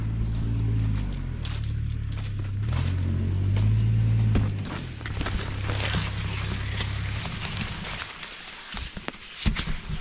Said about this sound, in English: He's revving up.